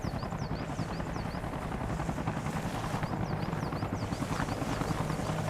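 Helicopter in a military video game, a steady close rotor chop and engine drone with faint high chirps repeating over the noise.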